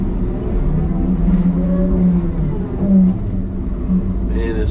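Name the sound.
loader engine while spinning around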